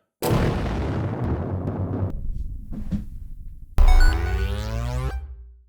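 A loud explosion sound effect for a head blowing up bursts in suddenly and rumbles out, followed by a second sharp blast with a ringing, debris-like decay; no speech over it.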